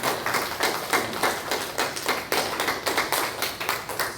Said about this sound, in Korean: 우리 모든 영광을 박수로 하나님께 올려드리겠습니다